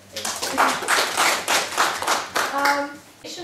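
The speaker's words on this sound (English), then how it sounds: "Please applaud us." Conference attendees at a legal English event clap in rhythmic surges that swell and ebb, with a voice briefly heard over the applause.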